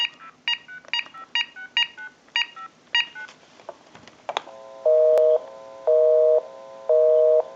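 A rapid series of dialing tones on an AT&T 5450 cordless telephone, about a dozen short beeps in quick succession, followed by three steady busy-signal pulses.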